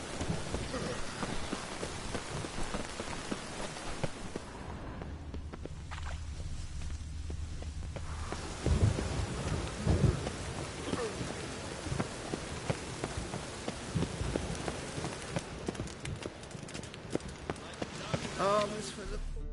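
Rain falls steadily in a town in the video game The Witcher 3, with thunder rumbling low around the middle, while characters' voices talk over the continuous downpour.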